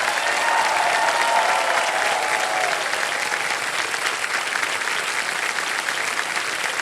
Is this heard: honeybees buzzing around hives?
no